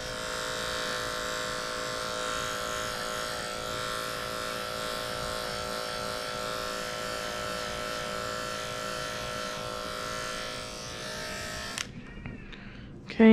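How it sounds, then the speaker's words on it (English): Electric dog clippers buzz steadily and close up while shaving a matted dog's tail underside, a continuous whining drone that runs unbroken for about twelve seconds before cutting off abruptly. "The tail underneath is matted, so I'm going to shave underneath here"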